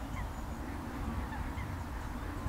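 A duck quacks and honks repeatedly in the background over a steady outdoor rumble, fairly faint and at a distance.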